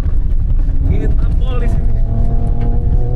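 Ford Ranger Raptor 2024 with a V6 twin-turbo petrol engine at full throttle: a loud, steady engine roar that rises in pitch, with someone talking over it.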